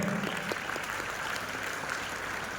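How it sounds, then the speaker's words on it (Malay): Audience applause fills the room, a dense, steady clatter of many hands clapping continuously from start to finish. "pinjamkan tangan anda dan berikan tepukan yang gemuruh untuk mereka"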